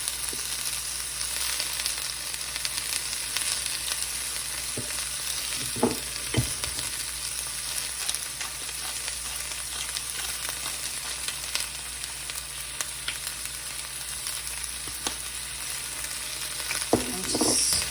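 Garlic and vegetables fry in a pan over steady heat, producing a constant close sizzle with a few scattered stirring knocks and scrapes.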